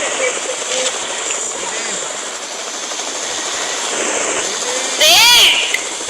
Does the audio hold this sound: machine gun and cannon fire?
no